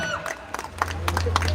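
A school inauguration audience claps and cheers for the marketing team, a short burst of scattered hand claps and crowd noise close by, mixed with some voices.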